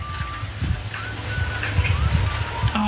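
Marinade is poured into a jar of tomatoes in a garden gazebo, producing a steady splashing, gurgling pour that runs continuously for about three seconds at moderate loudness.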